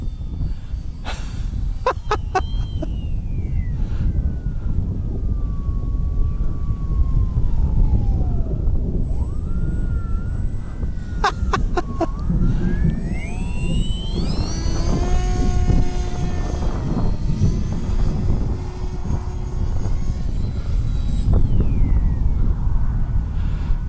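An H-King Bixler 3 RC model airplane's propeller whines continuously as it flies, pitch sweeping up and down as the plane turns and passes, loud and steady throughout.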